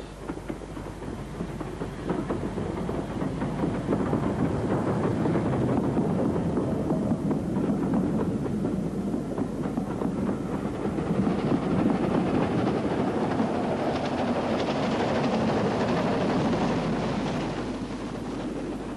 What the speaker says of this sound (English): This was a regular service train